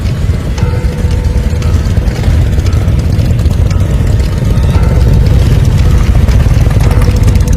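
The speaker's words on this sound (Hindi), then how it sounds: "मोटरसाइकिल की आवाज आई।" A cartoon-style motorcycle sound effect of a bike arriving at the edge of a village, a loud, steady low engine rumble and drone that holds throughout without speech.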